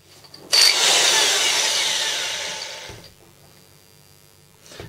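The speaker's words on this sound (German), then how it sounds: "wenn ich jetzt gleich das Loch hier reinbohre" A loud, close whirring power drill spins up abruptly while boring a hole in a solar panel frame, runs steadily for a couple of seconds while slowly falling in pitch, then stops.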